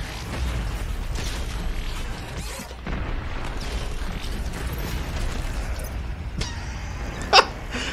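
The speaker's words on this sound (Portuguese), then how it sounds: "Foi uma série de explosões e eu pegando fogo." Explosions and heavy mechanical booms crash out in Doom Eternal combat. Rumbling blasts and creaking metal hits overlap continuously, with one sharp bang near the end.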